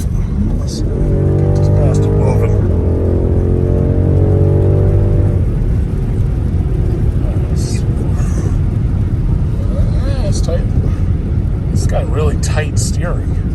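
A 2022 BMW X7 M50i pulls away and accelerates, its engine note rising in steady revving tones before settling into a broad cruising rumble, heard from inside the cabin with people talking over it.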